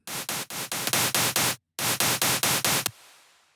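A distorted, bright white-noise layer from a Serum synth patch chops into about ten rapid, even pulses with its volume modulated. The pulses break off briefly, resume, then end in a fading tail.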